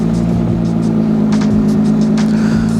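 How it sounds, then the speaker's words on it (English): A car reversing into a transporter, a loud steady low engine drone close by with faint whirring and light clunks, no speech. "So here's Toby just reversing it in."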